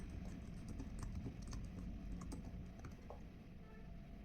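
Rapid keystrokes on a computer keyboard while typing JavaScript code, quiet close clicks in an uneven stream, with no voices.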